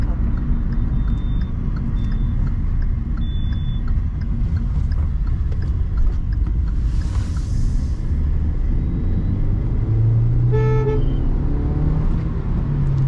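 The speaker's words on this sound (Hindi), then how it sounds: "यहाँ मैं यू टर्न ले लेता हूँ." Hyundai i20 car driving and making a U-turn, with a steady engine and road rumble heard from inside the cabin and a short tonal beep near the end.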